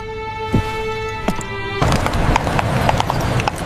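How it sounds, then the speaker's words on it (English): Horses' hooves clattering on a stone street in foggy old London as a cab hurries along: repeated sharp clip-clop strikes, close and loud, over a tonal hum that gives way to a busier rumble. "The horses' hooves clattered against the stones as they hurried through the foggy streets of London."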